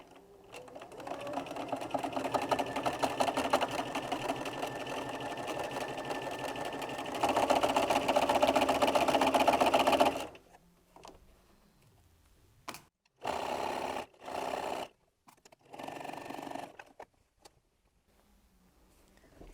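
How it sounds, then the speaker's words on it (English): A domestic sewing machine stitches a quarter-inch seam through a quilted fabric wallet, running in a steady whirring stretch for about ten seconds, then in short stop-start bursts. "So now I'm going to sew the seam using a 1/4 of an inch seam"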